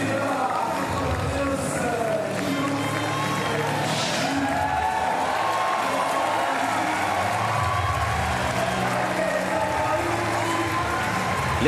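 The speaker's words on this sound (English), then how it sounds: "Crowd really getting into this competition at this very early stage." Arena crowd at a Paralympic powerlifting final in Paris, a dense, steady roar of cheering and clapping throughout, with a commentator talking over it.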